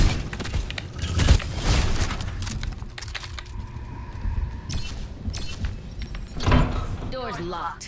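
A locked door rattles in Overwatch 2 during the Wrath of the Bride event: a few heavy handle clunks and jangles, with game effects and a short voice line over a busy background.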